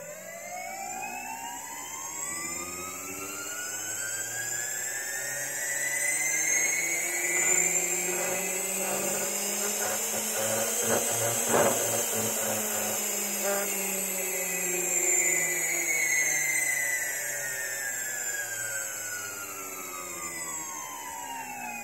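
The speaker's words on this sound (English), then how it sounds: "ran up the motor slowly, and you'll see how smooth that the motors spin up and spin down on these ESCs" Small drone motors driven by Racerstar 20A 4-in-1 detachable ESCs whine up in pitch, hold at a steady high peak, then wind smoothly back down, a loud continuous electric tone with rising and falling harmonics and no talking.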